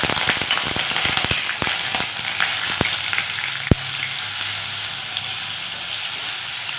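Ginger garlic paste frying in a pan for egg kothu chapathi, a loud continuous sizzle close up with sharp spoon clicks and crackles, one louder knock near the middle.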